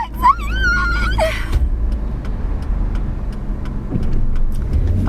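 A car drives along with a steady low road and engine rumble throughout. A brief squealing, warbling sound comes near the start, and faint clicks follow.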